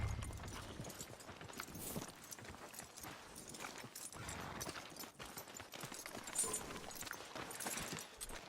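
Horse hooves clip-clopping in Red Dead Redemption 2, a steady walking rhythm at moderate distance beneath game ambience and music, with no talk over it.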